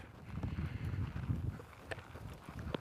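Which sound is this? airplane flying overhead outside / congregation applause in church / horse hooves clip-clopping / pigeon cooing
horse hooves clip-clopping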